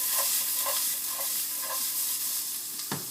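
Beef empanadas fry in a pan with a steady bright sizzle, broken by a few rhythmic stirring scrapes and then a sharper clunk near the end, with no talking.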